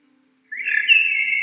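A bird gives a single bright, sustained whistled call that starts abruptly after a moment of silence and holds steady, close and fairly loud, with no talking.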